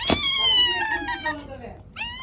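A cat meows in a long, drawn-out cry, then starts another meow shortly after; close and clear.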